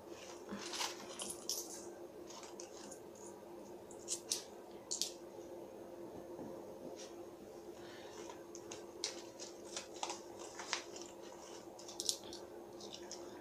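Loose change, including metal Bulgarian 2-lev coins, is handled close by, giving scattered light clinks and metallic taps over a low steady hum, with no talking.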